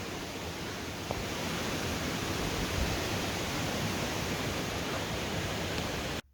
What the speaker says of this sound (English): With a great little waterfall at the end.